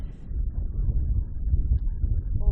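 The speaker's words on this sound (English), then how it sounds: "Albeit a very cold, very windy North Turramurra here." Cold, strong wind buffets the microphone at an outdoor North Turramurra football ground during a women's match, a steady low rumbling roar with gusty swells throughout.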